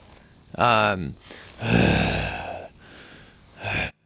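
A voice imitates heavy breathing: a strained gasping inhale, a long rough exhale, then another short breath, close and loud.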